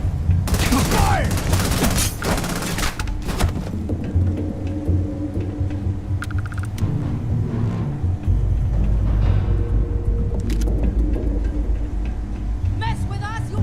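Sustained sci-fi gunfire in Starfield, dense broadband bursts in the opening seconds, then a steady rumbling battle bed with scattered shots. Voices talk over the fighting.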